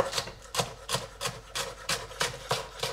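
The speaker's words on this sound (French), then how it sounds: "Je vais également hacher un oignon nouveau" A spring onion, both green and white parts, being chopped with a knife on a board: a steady, even series of crisp, close knife strikes, about two or three per second, with no talk.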